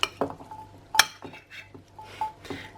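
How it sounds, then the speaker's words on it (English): Chickpeas being gently mixed through a pasta salad in a bowl, with a spoon scraping and clinking against the dish in several short, close strokes. "Give the chickpeas a good gentle mix through."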